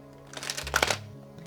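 A thick tarot deck being shuffled by hand, a quick riffle of crisp card flutters and taps building to a brief burst, close and moderately loud.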